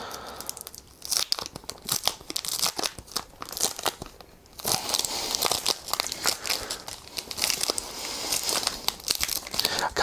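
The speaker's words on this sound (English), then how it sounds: "I'm going to take it out of its" A cellophane case is peeled and torn open close up, giving a long run of loud crinkling and crackling with a brief lull partway through before the rustling picks up again.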